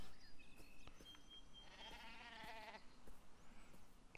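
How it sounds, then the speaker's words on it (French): Sheep bleat faintly in the video game Beyond Eyes, a couple of short wavering bleats over quiet ambient game sound with soft clicks. "Ah, il y a des moutons."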